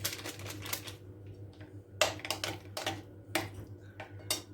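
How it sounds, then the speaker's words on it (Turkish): Pumpkin cookie dough ingredients mixed in a bowl with baking powder and powdered sugar added, heard as quiet, fast, repeated clicking and scraping in irregular bursts with brief pauses. "Bütün malzemeleri şöyle bir güzel karıştırıyoruz."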